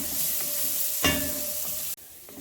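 Thyme and bay leaf are stirred into shallot and pancetta in a pan for an Italian-inspired chicken sausage cassoulet, giving a steady close sizzle with a brief scraping stir partway through.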